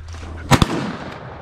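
A close, sharp double report from a shotgun fired at passing teal ducks by a river, two quick blasts followed by a short fading echo.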